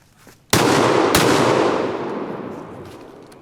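A tactical over-under shotgun fired downward into a ravine, two sharp, very loud close blasts about half a second apart, followed by a long rolling echo that slowly fades out.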